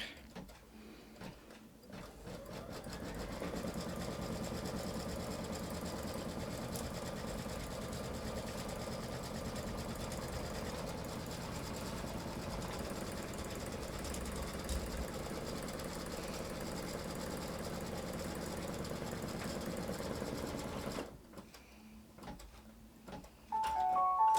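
An embroidery sewing machine stitches a block in the hoop with a steady, close mechanical hum and rapid needle rhythm for about twenty seconds, then stops.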